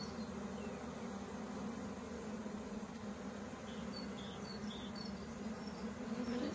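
A steady, dense buzzing hum of a honeybee swarm fanning at a hive entrance, close and continuous for the whole stretch with no voices.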